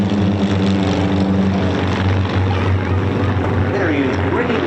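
Several propeller aircraft fly past in line-astern formation at an airshow, a steady loud engine drone holding throughout with a commentator talking over it.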